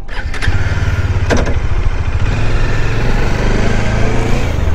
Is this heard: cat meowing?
no